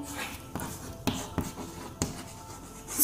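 Chalk or marker writing on a classroom board during an English grammar lesson, several distinct scratchy strokes tapping and rubbing in a steady rhythm, fairly close and alone without talk.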